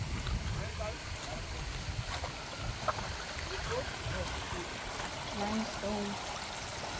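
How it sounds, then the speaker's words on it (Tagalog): Water trickles and seeps steadily over limestone at Tabi Falls in General Nakar, Quezon, a continuous close wash of flowing water with no voices over it. "dito natin makikita tumatagas yung tubig niya"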